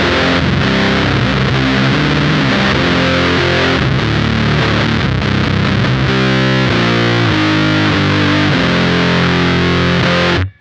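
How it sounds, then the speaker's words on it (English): A Minotaur Sonic Terrors fuzz pedal in Big Muff-style mode drives a guitar into thick, saturated, scooped fuzz, loud chords and riffs ringing continuously before cutting off abruptly. "this fuzz side is based around like the sound of a big muff, so very fuzzy"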